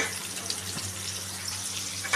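Water poured into a pan of fried dalia and lentils, a steady rushing hiss that stays even and close for the whole moment.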